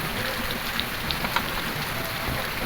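Steady rain falls outside during home cooking of a lunch thali, a continuous, even patter of drops on a surface with no voices.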